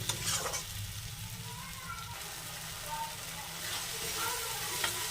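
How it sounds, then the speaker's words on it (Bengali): Tomatoes cooked soft with ginger and garlic are stir-fried in a pan, giving a steady, close sizzle with scraping spatula stirs throughout and no talk. "এবার ভালোভাবে নেড়ে নেবো, এভাবে কষে নেবো।"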